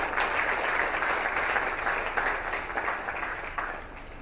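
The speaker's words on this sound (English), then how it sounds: "I think he deserves a better round of applause." Sustained applause from an audience at a public presentation and book launch, a steady dense patter of many hands clapping that holds for several seconds before easing slightly toward the end.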